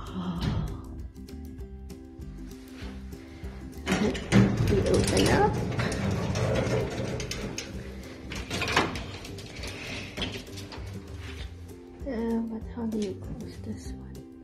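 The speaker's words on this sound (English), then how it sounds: "vintage elevator. Let's see how it works." A vintage elevator mechanism running, with clanking, ratcheting and grinding gear noises rising and falling over several seconds, close by, with a person speaking at times.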